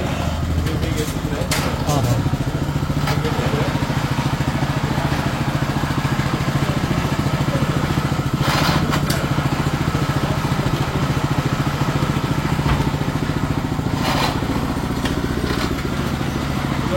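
An agricultural machine with forward and reverse gears runs steadily nearby, its loud, even engine drone continuing without a break while voices talk over it.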